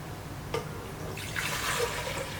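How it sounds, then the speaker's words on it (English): Water is poured into the water tank of a Gevi espresso machine, model GECME003D-U, a soft close splash and gurgle rising after a brief click, fairly quiet against a low background hum. "So we refill the tank."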